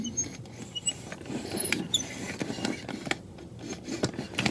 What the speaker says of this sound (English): It squeaks a lot, and it's not very good sounding